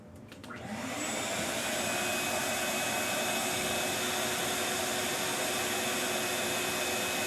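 A shop vac switches on and roars to a steady, loud whine that holds for several seconds, with no talking.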